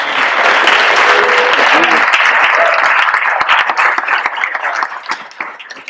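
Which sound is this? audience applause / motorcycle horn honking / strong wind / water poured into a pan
audience applause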